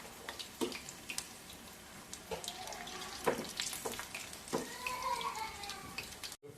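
Cauliflower pakoras (gobi pakodi) frying in hot oil over a medium flame, giving a steady close sizzle with scattered crackles and brief clatters throughout.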